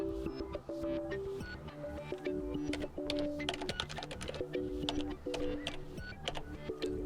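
A password is typed on a keyboard: a rapid, uneven run of close key taps, some accompanied by short electronic beeps, with no talking.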